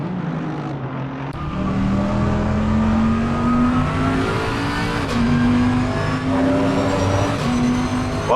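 Onboard engine of a right-hand-drive GT race car in Assetto Corsa Competizione at the Red Bull Ring, a loud steady drone rising and falling through gear changes, close and continuous with no voices.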